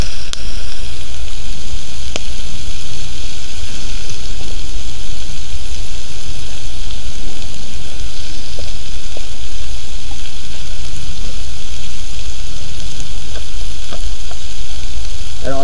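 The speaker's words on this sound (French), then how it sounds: "Je ne sais pas si vous entendez, mais ça grésille" Loud, continuous sizzling and crackling of chorizo and mushrooms frying in a hot pan, with a few sharp pops over the steady hiss.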